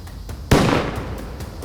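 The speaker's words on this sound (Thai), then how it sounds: "พ่อของสองสาวยิงปืนขึ้นฟ้าเพื่อข่มขวัญ" A single sharp, loud gunshot fired into the air bursts out and rings briefly, standing alone against a quiet outdoor background, in a 3D animated story.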